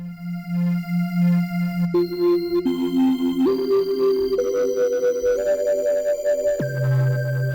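A software synthesizer from the Native Instruments Komplete 15 Select bundle plays sustained, glossy preset notes that step to new pitches every second or so, layered and continuous with no pauses.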